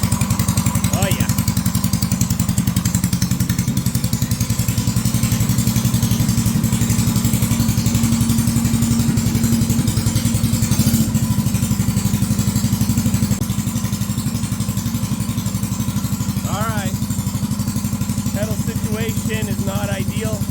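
A Ghost Racing engine mounted in a toddler-sized racecar bed runs loud and close, a rough, steady clattering roar that holds throughout, with a few brief higher whines and chirps rising over it.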